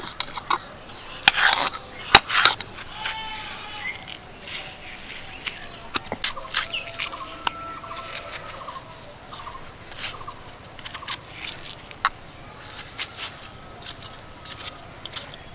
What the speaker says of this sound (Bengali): এবার আমি শুধু লাল অংশটা নেব, তার জন্য কিন্তু ছুরি দিয়ে এইভাবে কেটে নিচ্ছি